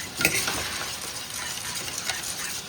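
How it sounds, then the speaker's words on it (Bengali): Prawns fry in oil in a pan at an outdoor village picnic and are lifted out, giving a soft, quiet sizzle with a few light scrapes and clinks of a utensil. "চিংড়ি মাছ ভাজা হয়ে গেছে তুলে দিচ্ছি"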